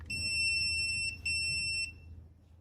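A Tigerlink keypad gives two high electronic beeps, steady tones in quick succession with a short gap between them, confirming a passcode over faint low room hum.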